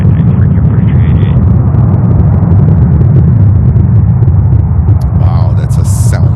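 A LATAM airliner at JFK airport roars loudly and continuously, a deep, broad, close rumble that fills the whole stretch, with a voice briefly audible near the end.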